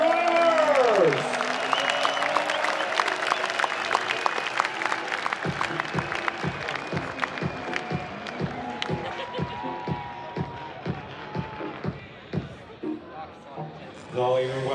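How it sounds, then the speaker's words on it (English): Crowd applause and cheering for drift drivers at a Drift Masters parade in Riga, heard over a loud announcer's voice, with scattered claps and background crowd noise continuing throughout. "One more round of applause for the very best drivers."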